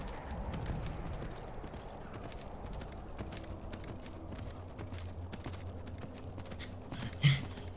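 Horse hooves clip-clop in the Skyrim video game, a quick, steady patter of galloping steps at low volume that runs throughout, with one sharper thump near the end.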